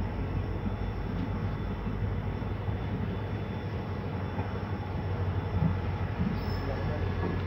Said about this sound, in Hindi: Himachal express overtaking Jammu Tawi Ajmer Puja superfast express special.